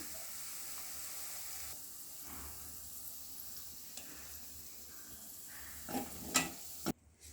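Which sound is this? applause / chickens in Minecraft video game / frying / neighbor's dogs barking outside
frying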